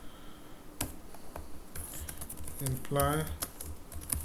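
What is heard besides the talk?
typing code on a computer keyboard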